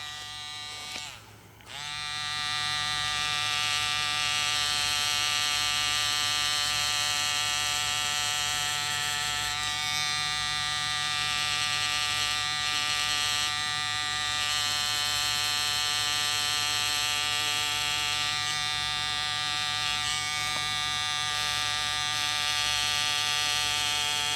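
Tattoo machine buzzing steadily and loudly at close range during self-tattooing, a constant droning hum that holds its pitch with only slight wavering after a brief drop near the start.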